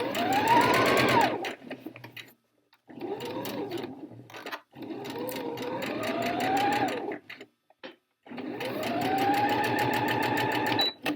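A sewing machine runs a back stitch along a skirt seam, whirring in several steady bursts with short pauses between runs, close and clear.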